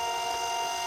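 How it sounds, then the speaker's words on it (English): A Nemonic sticky note printer runs through a short print job, giving a steady whirring, buzzing hum that holds evenly throughout, ending in a brief click as the note is cut. "And we're going to press print."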